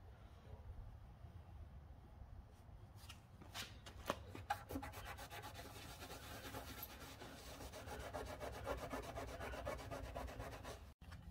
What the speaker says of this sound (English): Let it sit for a couple of seconds to start eating up the adhesive and just rub it off.